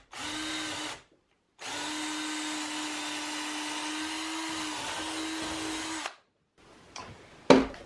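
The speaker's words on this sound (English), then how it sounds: "And now I can just drill in from the side here." A power drill whirs loudly in a short burst, pauses, then runs steadily for several seconds drilling into a pipe from the side before stopping, followed by a few clunks.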